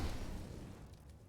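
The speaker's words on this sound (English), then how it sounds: "Incendiary out." An incendiary grenade in CS:GO bursts into a roaring, crackling blaze that starts loud and slowly fades over a little over a second, with no voices.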